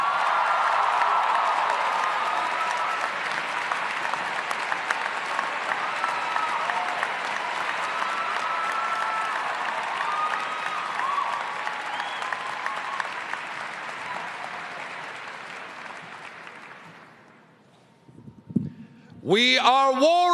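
A commencement crowd gives a warm, sustained round of applause for alumnus speaker Rainn Wilson, dense clapping that slowly thins and fades out after about seventeen seconds, followed by a brief whoosh and a ringing tone.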